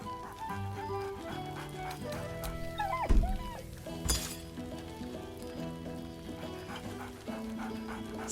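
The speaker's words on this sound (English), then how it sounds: "Scratch barks merrily in something like agreement." A dog barks excitedly in the Baldur's Gate 3 video game, a few short barks set over a steady musical score with layered game ambience.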